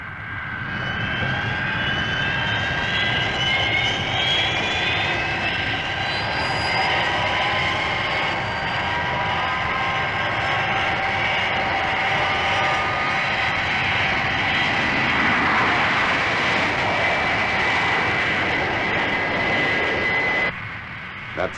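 The Fireflash aircraft takes off with a loud, sustained jet engine roar that rises and shifts in pitch, whining steadily for about twenty seconds before cutting off abruptly.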